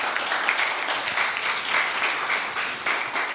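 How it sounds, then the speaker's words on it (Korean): Audience applause at a community civic education lecture in Gokseong, South Jeolla, a dense, steady clapping that fills the whole stretch at fairly loud level with no talk over it. "다시 한번 박수 한번 주죠"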